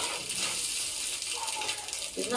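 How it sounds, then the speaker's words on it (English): Water from a tin of peas is poured into a pot of cooking brown rice, a steady broadband splashing and gushing that runs continuously throughout, close and fairly loud. "There's not much water in them peas, but I'm going to add it"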